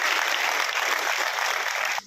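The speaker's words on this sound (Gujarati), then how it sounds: "જોરદાર તાળીઓથી આ સ્વાગત સન્માનને આપણે વધાવી લઈએ।" A crowd at a Vadodara event applauds to welcome police officials, steady dense clapping filling the whole moment at even loudness before cutting off abruptly at the end.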